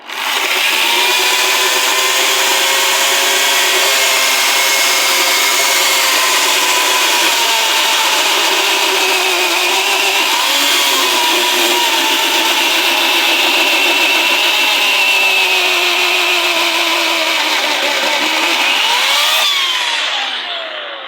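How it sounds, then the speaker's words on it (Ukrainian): A petrol chainsaw roars continuously at high revs while cutting through oak wood, loud and close, its pitch shifting slightly as it bites. "це було бензопила"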